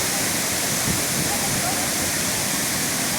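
Burney Falls in northern California, where the water splits into several cascades, giving a dense, constant roar with no break or change.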